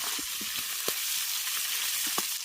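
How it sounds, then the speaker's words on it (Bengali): Tengra fish fry in hot oil in a kadai, a dense continuous sizzle with a few soft clicks and taps as pieces are turned, heard close and without talk. "মাছগুলোকে লাল লাল করে ভেজে নিই এপিট ওপিট করে"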